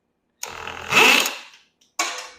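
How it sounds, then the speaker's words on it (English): Cordless power drill whirring in short bursts while removing a seat from an old EZGO golf cart: a brief spin, a louder rising whine, then silence and another short burst, close by. "Drill bit came loose."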